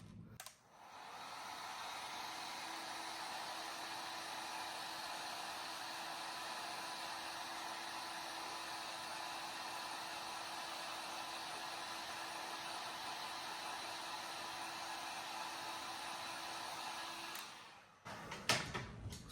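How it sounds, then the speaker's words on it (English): A heat gun runs steadily for about seventeen seconds, a loud even airy blast with a faint steady whine, heating the plastic boot of a Mythic Legion skeleton action figure, then cuts off with a few handling clicks. "So I'm going to get out the heat gun."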